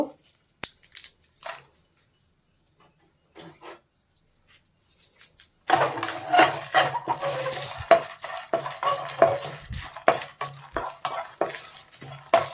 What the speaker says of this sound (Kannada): ಈಗ ಇದನ್ನು ಹಾಕಿ ಚೆನ್ನಾಗಿ ಫ್ರೈ ಮಾಡ್ಕೋಬೇಕು